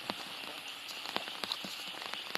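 Rain falls on the water and surroundings while fishing at a pond, making a soft, steady patter with scattered sharper drop ticks, faint and continuous.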